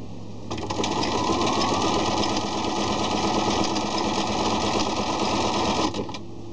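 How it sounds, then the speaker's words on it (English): A sewing machine stitches knit fabric in one steady, close, continuous whir that starts after half a second and runs for nearly six seconds before stopping, with no talking. "so then you just go along, sewing your fabric"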